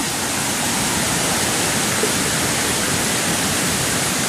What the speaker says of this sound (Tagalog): pag lumakas yung ulan, lalakas din yung baha